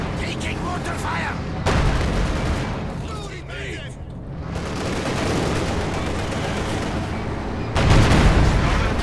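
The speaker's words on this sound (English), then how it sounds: "Taking mortar fire!" Mortar and gun fire rumble through a Company of Heroes 2 battle with an IS-2 tank nearby, heavy blasts swelling over a constant roar of combat while a voice talks throughout.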